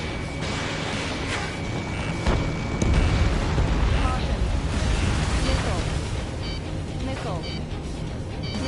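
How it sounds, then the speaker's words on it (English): A missile explodes against the player in a PS4 video game: a dense, rumbling blast swells near the middle over a constant roar of game noise, then settles back into a steady loud wash. "A missile hit you."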